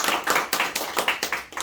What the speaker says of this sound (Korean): 박수 한번 하고 이번 시간 마칠게요.